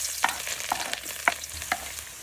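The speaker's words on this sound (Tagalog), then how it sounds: "Dito po sa pinagprituhan, magigisa pa ako ng bawang at sibuyas." Garlic and onion sautéing in leftover frying oil, a steady faint sizzle broken by a few sharp scraping stirs spaced about half a second apart, with no one talking.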